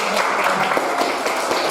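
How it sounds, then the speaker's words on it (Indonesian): Applause from a classroom group at the close of a guidance lesson, a steady even wash of many hands clapping at moderate loudness, with no talk over it. "tepuk tangan buat kita semua"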